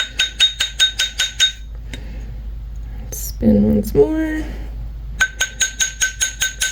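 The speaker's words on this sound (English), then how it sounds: "we'll just spin it, hammer a little bit of it while I'm holding it in place on both sides" Hammer striking an adjustable wire ring as it is spun, a quick run of sharp metallic taps at the start and again near the end, with a brief spoken remark in the quiet stretch between.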